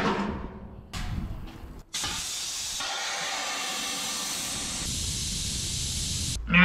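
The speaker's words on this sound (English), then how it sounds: "we can then drain the air out of here" Compressed air rushes out of an air compressor tank's hand-turned drain valve in a loud, sustained hiss that starts after a couple of brief knocks and holds steady for several seconds before stopping.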